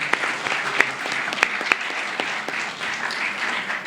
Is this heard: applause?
yes